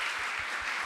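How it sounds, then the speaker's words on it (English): Brief applause from an audience at a talk on violence, safety and equity, a steady, even patter of many hands lasting under a second. "let's give Alex a round of applause"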